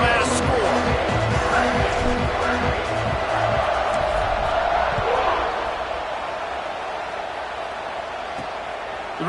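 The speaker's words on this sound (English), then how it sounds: "this crowd is buzzing after that last score" Stadium crowd at a Kentucky college football game buzzing after a score, a steady loud roar of many voices filling the space, with a commentator talking over it throughout.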